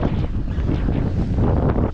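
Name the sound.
wind blowing at sea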